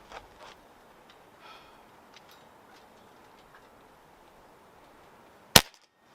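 A Niksan Escalade T .22 caliber air rifle fires a single pellet at an outdoor range, one sharp, loud crack near the end after a quiet stretch of faint background noise.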